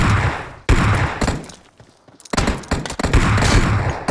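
Dense rapid gunfire in an online shooter match, loud close volleys before and after a short lull in the middle.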